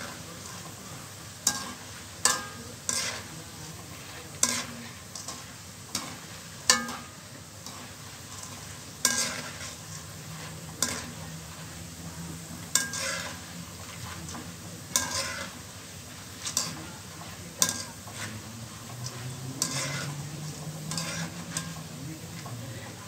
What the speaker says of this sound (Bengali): মোটা সেমাইটা একটু নেড়ে চেড়ে ভাজতে হবে